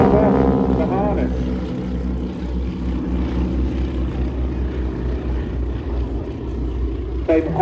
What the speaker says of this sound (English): watch as the aircraft pitch up